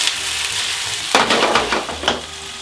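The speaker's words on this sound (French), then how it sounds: "Je suis à 225, la viande dans la poêle. On va la faire revenir." Meat dropped into a hot frying pan at about 225 degrees Celsius for hachis parmentier, a sudden loud sizzle that bursts in and keeps crackling and hissing close up, with faint stirring and no talk.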